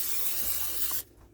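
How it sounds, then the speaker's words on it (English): Olive oil spray misted onto a baking dish in a home kitchen while making low-carb millionaire spaghetti: one steady close hiss lasting about a second, then cut off abruptly, leaving quiet room tone. "I'm going to take some olive oil spray, and I'm going to spray our baking dish right here."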